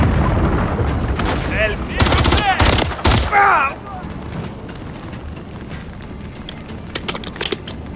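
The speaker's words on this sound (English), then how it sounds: "There's enemy fire!" Enemy gunfire in the video game Call of Duty: Modern Warfare 3, with loud bursts of automatic shots clustered in the first few seconds, then sparse distant pops over game ambience and shouted voices.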